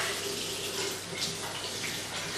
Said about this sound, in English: We'll run them under the tap